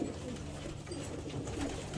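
Pigeons coo steadily inside a breeding loft, with soft, low, overlapping calls that continue close by at an even level throughout.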